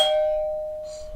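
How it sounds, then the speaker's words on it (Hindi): A doorbell sounds a single bright electronic chime indoors that rings out and fades slowly, with a faint voice starting at the end. "अच्छा जाने में भी घंटी बजती क्या?"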